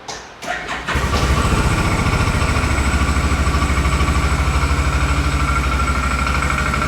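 A Can-Am Odes Dominator 1000 X2 LT side-by-side cranks briefly with a couple of sputters, then catches and settles into a loud, steady, evenly pulsing idle close by, with no talking.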